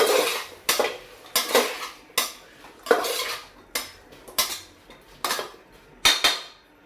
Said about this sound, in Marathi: आता हे सर्व एकदा मिक्स करून घेऊ.